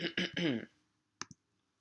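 Two quick, close mouse clicks land on a web browser bookmark, following a short stretch of talking in a quiet room.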